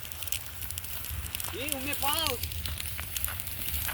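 Steady crackling and hissing of a wildfire on an open Konkan plateau fills the clip, with a brief chirping call rising above it midway.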